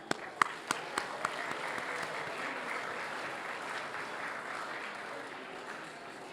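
An audience at an awards dinner breaks into sustained applause, a dense wash of clapping that opens with a few distinct nearby claps and holds steady throughout.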